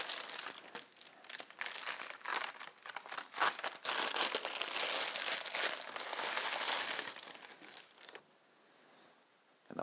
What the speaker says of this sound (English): Remove the paper.